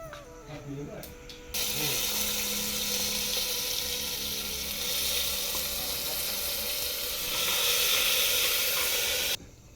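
Sharp crackling sizzle of spice tempering hitting hot oil for a stuffed eggplant curry bursts in after a brief talk-free pause, holding loud and steady before cutting off abruptly.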